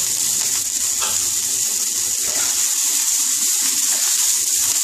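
Chopped ginger and garlic sautéing in a pan for chilli soya, a bright, constant hiss of sizzling oil with faint stirring underneath, steady and close throughout.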